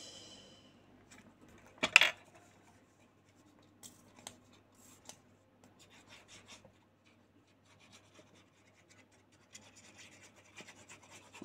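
Paper scraps are glued and rubbed onto an envelope: soft, intermittent scratchy rubbing and small taps, quiet and close, with one sharper burst near the start and no speech.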